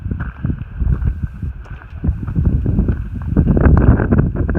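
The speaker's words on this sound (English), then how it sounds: "Woohoo, it's windy up here." Strong gusty wind on a mountain in the Shenandoahs along the Appalachian Trail buffets the microphone, a loud low rumble that swells and surges throughout without pause.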